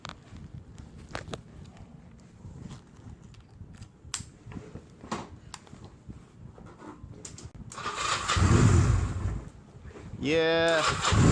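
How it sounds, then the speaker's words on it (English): A Honda Rebel motorcycle engine fires up with a loud rumble and settles into an uneven idle, after quieter shuffling and handling noises. "the Honda Rebel doesn't sound like any of your regular cruisers out there"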